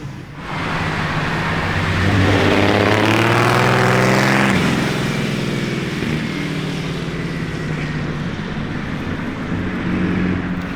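A blue Ferrari Daytona SP3 in Maranello revs hard, its engine note swelling loud and close within the first few seconds, then settling into a sustained, rumbling drone.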